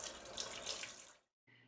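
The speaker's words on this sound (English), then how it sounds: "Rinse the fabric one more time until the water again runs clear." Tap water runs steadily into a sink while tie-dyed fabric is rinsed, a close splashing gush that cuts off abruptly, followed by a faint low hum after a short silence.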